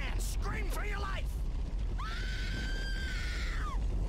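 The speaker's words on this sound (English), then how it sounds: "Scream, Anne! Scream for your life" In the King Kong video game, a woman lets out a long, high, sustained scream after a brief shouted voice, over a rumbling low background.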